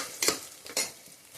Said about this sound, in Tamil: சீக்கிரம் வெங்காயம் வதங்கும்